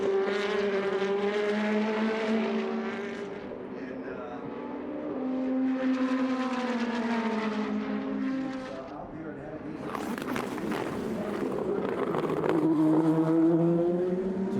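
Indy NXT race cars built by Dallara on Firestone tires roar around the Indianapolis Grand Prix road course, their engine notes rising and falling in pitch as they pass close by, loud and sustained throughout.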